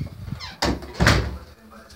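Door pulled open by its handle, giving two dull thumps with a brief rattle under low background noise.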